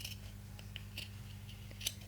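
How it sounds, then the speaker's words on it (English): Regular fabric scissors trim the seam allowance on a sewn cardholder wallet piece, a few faint crisp snips spaced irregularly over a quiet, low background hum. "I'm just going to use my regular scissors and trim the seam allowance"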